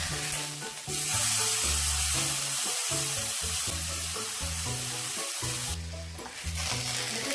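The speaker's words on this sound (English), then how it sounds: "Now first we need to pan fry the meat." Pork pan-fries for Pork Hamonado with a bright, continuous sizzle and occasional stirring noise, set against steady background music that pulses throughout.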